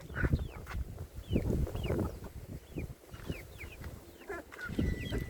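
Several chickens cluck and squawk nearby in a busy, overlapping chorus, with short rising calls repeating throughout.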